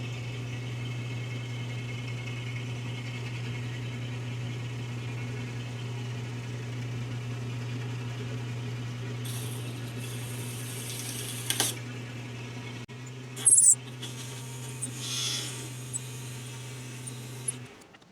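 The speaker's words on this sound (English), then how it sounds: "The first order of operations is going to be lightly face off this face of the flywheel." A metal lathe lightly faces off a flywheel for an engine, with a steady low machine hum throughout, faint cutting noise joining partway through and a few brief clanks near the end.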